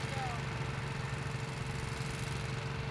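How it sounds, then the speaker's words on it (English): Vermeer bore rig drilling a bore under CSX railroad tracks at a signal work site, a steady droning engine hum with a low vibrating rumble, continuous and moderately near. "the bore rig is in fact drilling at this moment"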